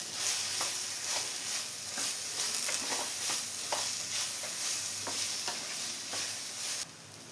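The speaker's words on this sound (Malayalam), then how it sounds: "ഇനി ഇതിലോട്ട് 4 പച്ചമുളക് കട്ട് ചെയ്ത് വെച്ച് ചേർത്ത് കൊടുക്കാം" Ripe plantain sautés in ghee with green chillies and curry leaves, giving a soft, continuous sizzle with regular light stirring scrapes through it, moderately quiet and close, easing off sharply near the end, without any speech.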